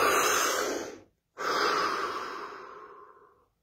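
A deep breath taken during a guided core session: a long, airy inhale, a brief pause, then a slow exhale that fades out, close and clear with no talking.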